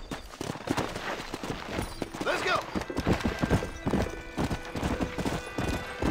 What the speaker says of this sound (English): But we got a quick horse ride out of here first.